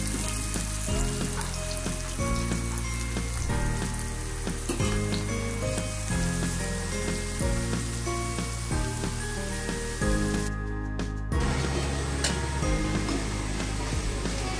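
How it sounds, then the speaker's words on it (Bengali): Chopped onion and garlic fry in hot oil for a home-style vegetable khichuri, giving a steady, close, loud sizzle throughout with occasional stirring scrapes and no talk. "পেঁয়াজ কুচি রসুন কুচিটা আমি একটু ভেজে নিচ্ছি।"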